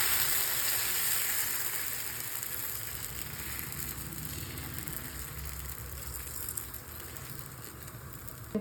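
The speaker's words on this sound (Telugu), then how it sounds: "ఇక్కడ నేను ఈరోజు మజ్జిగ దోశలు వేస్తున్నాను" Buttermilk dosa batter sizzles steadily on a hot pan, a close, even hiss of frying that holds at a constant level with no talking.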